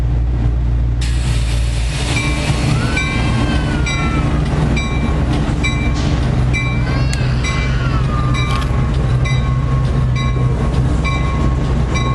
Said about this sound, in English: No, it's a train with that new engine.